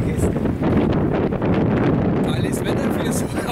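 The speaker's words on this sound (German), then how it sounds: "Wir haben eine kleine Windböe oder Schneeböe mitgenommen." A gusty winter wind with blowing snow batters the microphone outdoors while wood is fetched, a loud, continuous rough roar with rustling, with a person talking over it.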